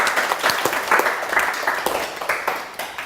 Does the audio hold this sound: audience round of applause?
yes